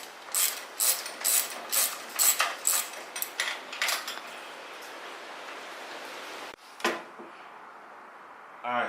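A ratchet clicks in quick bursts while loosening bolts on a motorcycle primary cover, close and crisp, then falls quiet before one last short burst.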